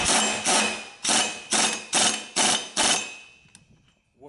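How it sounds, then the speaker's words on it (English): An impact wrench tightens the pulley bolt on a riding mower in about seven rapid, loud, evenly spaced hammering bursts, close up, then a faint click as it stops. "Just give it a couple of bumps with an impact."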